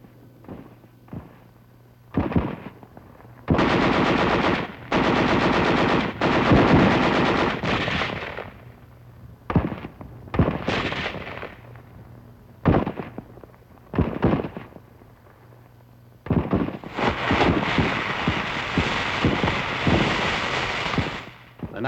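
Bursts of machine gun and mortar fire ring out in WWII combat against fortified hillside caves and pillboxes, loud rattling volleys separated by short pauses, with a longer sustained stretch of gunfire toward the end.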